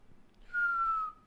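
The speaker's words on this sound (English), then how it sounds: "See, that's when I can whistle." A single short whistled note from a person, clear and steady for about half a second, rising slightly then holding, in a quiet room with no talking.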